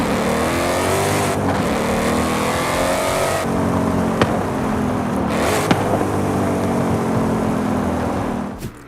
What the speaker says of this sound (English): This is the race exhaust and only sounds good under acceleration in my opinion.